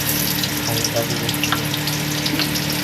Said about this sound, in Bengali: এবার আমি পটলগুলো ছাড়বো একে একে ছেড়ে দিলাম পটলগুলো আমি